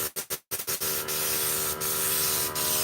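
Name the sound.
paint sprayer spraying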